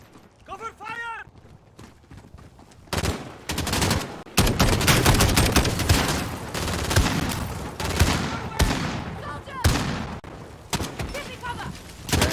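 Gunfire in the video game Modern Warfare starts quietly and then breaks into loud, dense rapid bursts that continue for several seconds, mixed with shouted voices.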